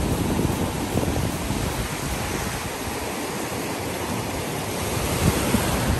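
Ocean surf breaking steadily on a clear-water Punta Cana beach in the Dominican Republic, a continuous loud wash of waves with wind buffeting the microphone and no voices.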